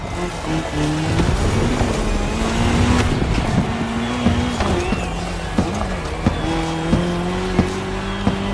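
A car and a KTM motorcycle race in The Crew Motorfest: loud, close engine whine rising and shifting through gears, with tire squeal and a few sharp knocks and bumps along the way.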